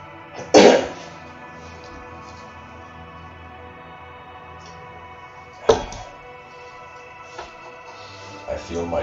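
A man giving a lecture coughs sharply twice, seconds apart, with quieter throat noises between the coughs and a faint room hum.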